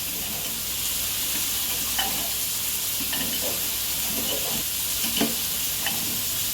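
Khichuri in a pan with green chillies added, a constant soft sizzle with a few spoon scrapes and knocks against the pan as it is stirred, close by with no talking.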